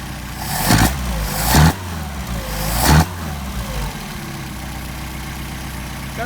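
Mercedes-Benz 190SL engine on Solex carburetors, idling right after a hot start, with three sharp revs early on before settling into a steady, close, loud idle with no talk.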